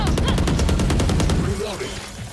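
Rapid automatic gunfire rattles in a Valorant gunfight, a loud, dense burst of evenly spaced shots lasting over a second before fading into softer game sounds.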